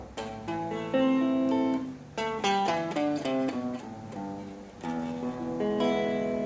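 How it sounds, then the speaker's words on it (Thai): Clean electric guitar through an amp, plucked notes and arpeggiated chords ringing out clearly with a warm, undistorted tone, played alone at moderate volume. "นี่คือเสียงจากตู้แอมเปล่า"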